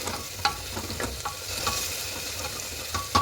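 Ground coriander and turmeric get stirred into a frying pan with little oil, spatula scrapes and taps repeating every half second or so over a gentle sizzle, close and without speech.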